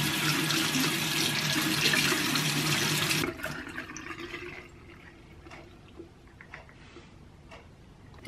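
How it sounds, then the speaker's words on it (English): Tap water runs steadily into a sink for about three seconds while a menstrual cup is washed with soap, then the flow stops, leaving quieter handling clicks and small drips close by. "I'm gonna be washing this with soap."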